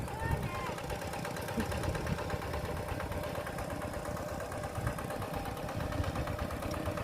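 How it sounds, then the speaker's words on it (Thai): A small engine-driven water pump runs steadily while filling a rice paddy with water, a continuous droning engine hum at moderate level with some background voices. "ตอนนี้ก็สูบน้ำใส่เลยพี่น้อง"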